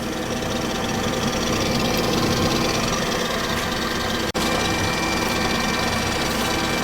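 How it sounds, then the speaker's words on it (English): An electric hand mixer whirs steadily on slow through blueberry cream cheese pound cake batter, a loud close continuous motor drone with one very brief dropout. "I'm going to turn that back on to slow for just a moment and let that incorporate."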